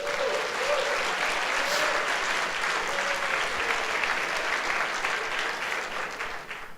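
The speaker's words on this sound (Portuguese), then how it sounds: "dê um aplauso a Jesus" A church congregation applauds during a Sunday worship service, a dense, steady wash of clapping that holds strong throughout and eases only slightly at the very end.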